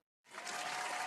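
Cartoon applause sound effect, a dense burst of many hands clapping that starts abruptly after a short silence and holds loud and even to the end.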